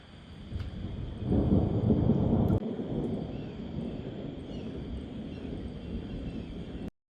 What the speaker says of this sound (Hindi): अभी बिजली कड़केगी